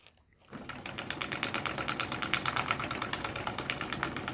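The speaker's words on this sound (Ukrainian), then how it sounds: "Пробую, прошиваю 400 ватним мотором" A bag-closing sewing machine with a 400-watt motor starts up after a brief pause and stitches at a steady, rapid rhythm, with sharp repeated clicks over a low motor hum.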